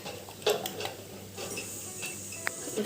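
Chicken already seasoned with salt and turmeric is being sautéed with ground coriander paste in a pan, with close stirring, scraping and a light sizzle, plus a few sharp clinks of a utensil against the pot.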